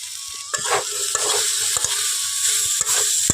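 Fried potatoes with spices and a little sugar being stirred in a pan for a Bengali village-style fig dish, giving a steady sizzle with repeated scraping stir strokes close by, no voices.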